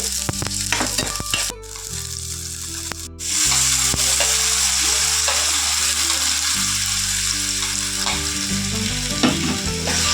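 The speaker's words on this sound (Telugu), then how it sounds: "ఆయిల్ వేడైన తర్వాత మనం రెడీ చేసుకున్న ఇంగ్రీడియంట్స్ అన్నీ ఒకదాని తర్వాత ఒకటైతే వేసుకోవాలి" Ingredients for restaurant-style pasta fry and get stirred in hot oil, giving a steady, loud, close sizzle with brief scraping that runs the whole time under soft tonal background music.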